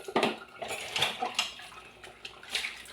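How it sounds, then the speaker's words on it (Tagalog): Dishes, pots and cutlery clatter and clink under running tap water at a kitchen sink, with repeated close, bright knocks and splashes and no talking. "Maghugas muna tayo ng pinagkain ng ating apo."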